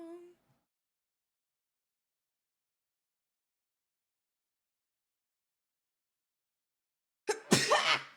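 After a long stretch of silence, a single sharp, breathy sneeze bursts out close by near the end.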